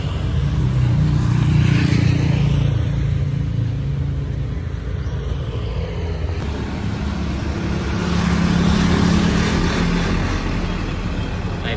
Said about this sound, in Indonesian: Nah itu ya BRT apa namanya, bus Tayo biru